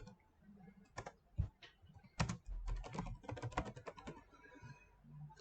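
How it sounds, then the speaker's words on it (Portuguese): Text being typed on a computer keyboard into a Google Classroom activity, a close run of quick key clicks in irregular bursts, with brief pauses between words. "vou escrever teste de língua portuguesa"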